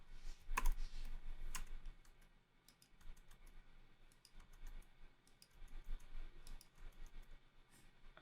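Computer keyboard typing in a quiet room, bursts of rapid key clicks in an uneven rhythm with brief pauses between runs, close and soft, no voices.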